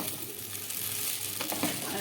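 Vegetables in a pan with very little oil over a low flame are stirred, giving a steady close sizzle with light scraping of the spatula throughout.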